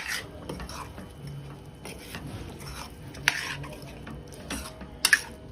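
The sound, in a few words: stirring chickpeas into roasted masala in a pan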